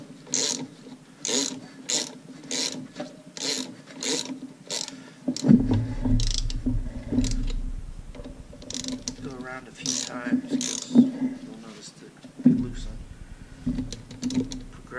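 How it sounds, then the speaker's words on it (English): Ratchet snugging bolts on a Porsche 930 CV joint, rapid repeated clicking strokes close up, with a steady low hum partway through and someone talking at times. "go through and snug up your bolts."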